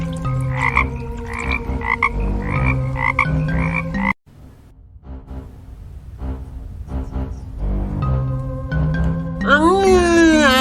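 Frogs croak in loud, rhythmic repeated calls, a chorus that breaks off abruptly and resumes more sparsely, ending with rising whistle-like sweeps.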